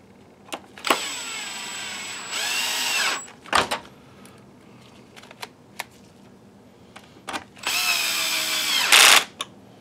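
A power screwdriver drives screws back into an Optoma UHD51A DLP projector in short whirring bursts, separated by clicks and handling noises.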